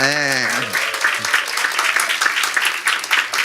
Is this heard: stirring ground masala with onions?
no